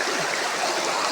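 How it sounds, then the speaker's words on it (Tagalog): A river in Angono flowing steadily, a continuous broad rushing wash of water close by with no talk over it. "may ilog pala dito sa Angono"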